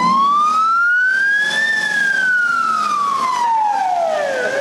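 An ambulance siren wails loud and close as the emergency crew races to a call, its tone sweeping slowly up then down in a long continuous cycle over engine rumble.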